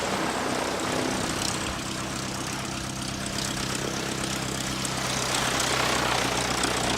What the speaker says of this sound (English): the Skyhawk is going to come past us here. So if you like your baby props, here's a baby prop for you.